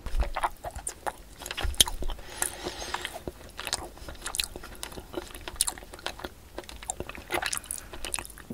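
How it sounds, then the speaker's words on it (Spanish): Chewing of food is amplified close to the microphone, giving crisp bites and crunches in an irregular rhythm over quiet background, with no talking. "grabarse comiendo y en un plano en secuencia y amplificando mucho el sonido de la masticación y de la comida."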